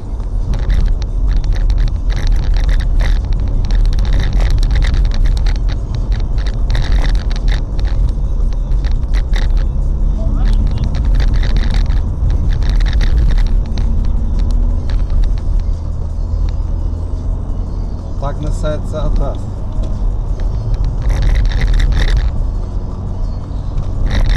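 Car engine droning loudly and steadily from inside the vehicle while driving in pursuit, road rumble throughout with rattling bursts.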